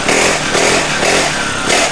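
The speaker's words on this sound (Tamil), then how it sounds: "நம்ம கடையில் பார்த்தீங்கன்னா பெட்ரோல் பைக் இதோட சவுண்டை பாருங்கள்" A petrol-engined children's mini bike runs at a steady loud buzzing idle, close up, with a rough rattling drone and slight swells in pitch.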